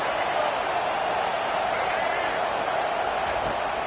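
Stadium crowd noise in the College Football 25 video game, a steady broad roar of cheering that holds level throughout without a break.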